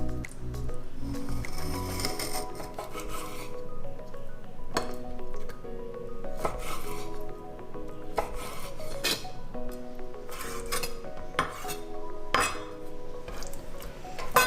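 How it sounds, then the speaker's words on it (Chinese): A knife cuts meat into strips on a board while a traditional glutinous oil rice dish is prepared, giving repeated scraping and tapping strokes over steady kitchen clatter. "可以来把它切成条状，先对半切。"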